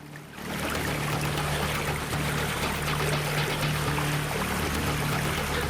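Flood water from the overflowing Citarum and Cibeet rivers in Karawang, West Java, rushes as a steady, loud, broadband roar after a brief quiet start, continuous and alone, with no voices.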